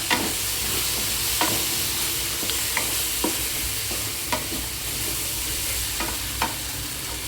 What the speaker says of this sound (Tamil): அது கொஞ்சம் நேரம் வதங்கட்டும்